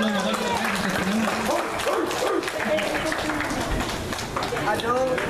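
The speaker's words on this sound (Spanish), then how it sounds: "Un aplauso para Chivo" Members of a football club applaud a teammate, a dense, continuous clatter of clapping from a group that holds steady throughout, with voices calling out over it.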